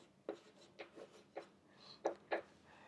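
Marker or chalk strokes on a board during a lecture: a handful of short, sharp scratchy taps in an uneven rhythm, close but very quiet, with no talking.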